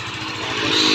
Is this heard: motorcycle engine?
yes